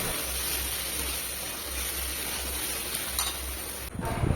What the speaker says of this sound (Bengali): এরপরে পরিষ্কার করে রাখা গোবিন্দভোগ চালটা বেশ দিয়ে ভালো করে মশলার সাথে নেড়ে চেড়ে নেব।